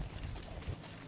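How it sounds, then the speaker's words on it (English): Horse being lunged, hooves clip-clopping in a quick irregular rhythm of several close, sharp strikes with no voices. "I want to sit here and lunge this horse."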